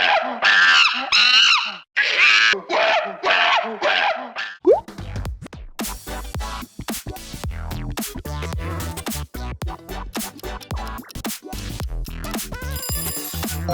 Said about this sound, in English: That was a monkey.